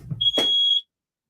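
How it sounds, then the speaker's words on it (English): A home smoke detector fire alarm sounds one sharp, piercing high-pitched beep lasting about half a second, loud and close, preceded by a brief thump and followed by silence. "I think it's my fire alarm going off."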